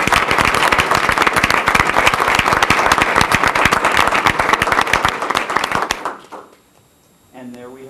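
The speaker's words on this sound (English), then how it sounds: "Let's give her a big round of applause." Applause at a school board meeting for an award recipient: a modest room of people clapping crisply and steadily for about six seconds before it stops and a voice begins speaking.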